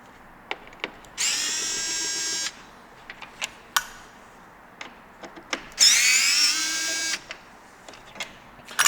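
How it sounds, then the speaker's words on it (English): A strong electric screwdriver backs screws out of a PC case in two whirring bursts, each lasting over a second, separated by small clicks and handling knocks near the microphone. "And this screwdriver is pretty strong."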